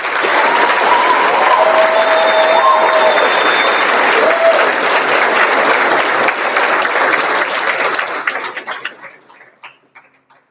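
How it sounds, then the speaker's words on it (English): Audience applause at a JROTC birthday ball honoring a first sergeant, a dense, loud round of clapping that holds steady for about eight seconds before tapering off into scattered claps. "One more round of applause for First Sergeant Jordan"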